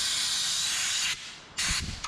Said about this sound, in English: We'll go ahead and blow out our fuel line.